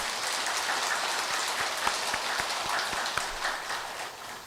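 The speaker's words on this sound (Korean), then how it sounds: "우리 주님께 큰 박수 한번 해드릴까요?" Dense, hissing applause from a congregation at a Buddhist temple dharma service, sustained and loud with scattered sharper claps, fading slightly toward the end.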